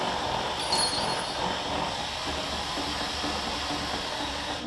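Milwaukee 1/2-inch drill turning an 11/16 socket on a backhoe leg's square drive, a steady loud motor whine running continuously, close to the microphone.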